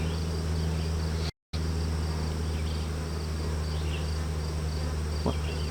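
Worker and nurse honeybees on a hive frame make a steady, even hum, continuous and moderately close, cut by one brief dropout.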